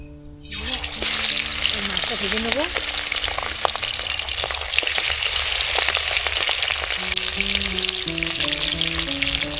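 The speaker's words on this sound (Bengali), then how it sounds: "লাল লাল করে কড়া করে মাছটা ভেজে নেবে" Chunks of rohu fish fry in mustard oil, a dense, loud, continuous sizzle and crackle filling the whole stretch close by, with a low voice and faint tones sounding underneath.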